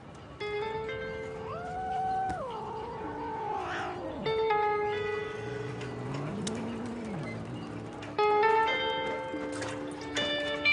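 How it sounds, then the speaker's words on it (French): Stray cats gathering at a fishing spot for discarded fish, several drawn-out meows and wails from nearby animals overlapping, with cooing pigeons and other birds calling throughout. "La colonie entière de chats errants se rassemble pour profiter des poissons abîmés ou trop petits."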